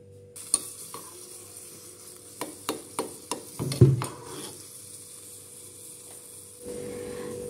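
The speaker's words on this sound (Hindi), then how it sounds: "इसको हम मेल्ट कर लेंगे और यूज करेंगे एज अ घी।" Homemade ghee melting in a pan, with a steady soft sizzle under a run of sharp clinks and scrapes as a spoon stirs against the metal, close and fairly quiet, no talk.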